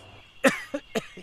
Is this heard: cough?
yes